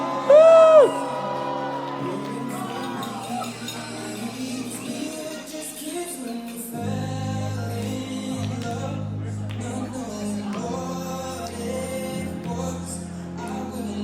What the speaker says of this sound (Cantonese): 你哋俾啲歡呼聲。